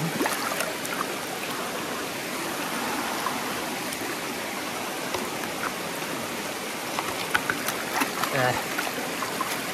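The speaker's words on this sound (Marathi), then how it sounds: "डोंगरामधून पाणी येतो." A continuous rush of water flowing down from a mountain, like a stream running down a slope, steady and full throughout.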